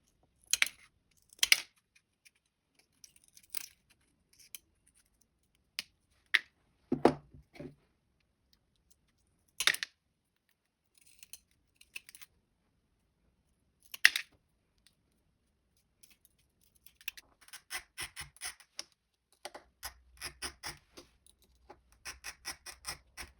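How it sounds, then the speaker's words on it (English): Tile nippers trimming small pieces of scored ceramic tile, heard as sharp, sparse snaps and clicks spread across a quiet room, then a quicker cluster of small crunches near the end. "This piece doesn't have enough space to use the running pliers, so I trim with the tile nippers."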